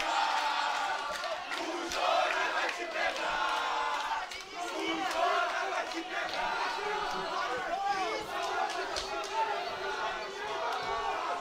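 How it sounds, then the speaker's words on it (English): Fight crowd at the Gibraltar Arena during an LFA 126 featherweight title bout, a loud continuous roar of cheering and shouting with sharp impacts and commentators talking over it throughout. "Crowd here at the Gibraltar Arena going nuts"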